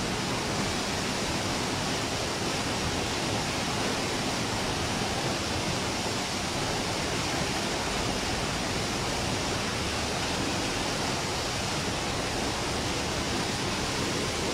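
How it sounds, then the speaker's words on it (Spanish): The Nututun river at Palenque, Chiapas, in flood roars as a broad, unbroken rush of water, steady and enveloping with no pauses or voices. "Así es, Oliver, así está el río Notutón en estos momentos"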